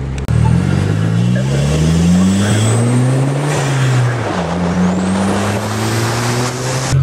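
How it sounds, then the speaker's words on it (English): An Audi engine fitted with an ECS intake revs loudly and close, its pitch climbing and falling through several pulls, with a sharp blow-off valve whoosh as it lets off. "The blow off valve, you can hear that?"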